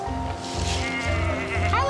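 Goats bleat a few times in quick succession, close and fairly loud, with a low steady hum underneath.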